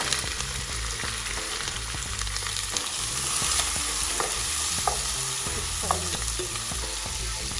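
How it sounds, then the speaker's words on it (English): Chopped onions fry in a pan, added after dried fenugreek (kasuri methi) for a lauki (bottle gourd) sabji, giving a steady close sizzle with occasional scrapes of a spoon stirring, no talk. "We're going to fry these onions for 4 to 5 minutes until they are well fried"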